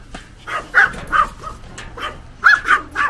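A small dog, likely a Pomeranian, barks sharply and angrily in a rapid burst of yaps up close, several loud, high barks spaced unevenly over a few seconds.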